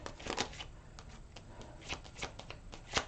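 Reading cards are shuffled and handled up close, giving a quick series of crisp riffling flicks and papery snaps, fairly soft, with no talking.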